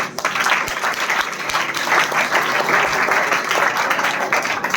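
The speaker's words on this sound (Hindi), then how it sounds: "प्लीज जोरदार तालियों से।" Loud, sustained audience applause at a school birthday celebration for the director of MK Pathshala, dense clapping from a crowd with a slight murmur of voices underneath.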